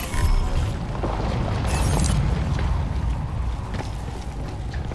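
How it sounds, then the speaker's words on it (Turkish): A deep rumbling boom from a grenade blast in Crysis 2 Remastered opens the clip, then settles into a sustained low roar of debris and mechanical noise that fades only slightly over several seconds. "Bomba attım."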